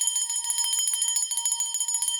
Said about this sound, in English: So I'm just ringing the bell to anchor that energy of alignment